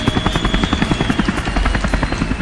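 Military air force helicopter heard close and loud, its rotor beating in a steady rapid thump over a continuous engine whine, with no voices.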